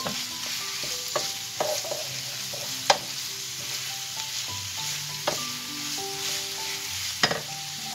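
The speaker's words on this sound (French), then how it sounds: "on va laisser cuire à feu vif 5 bonnes minutes" A chicken filling for stuffed squares sizzles steadily in a pan over high heat, broken by sharp clinks and scrapes of a utensil stirring it, with no talking.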